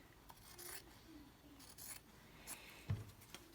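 Scissors trim fabric for a book cover in a few quiet, close snips and rasping slides, with faint rustling between cuts.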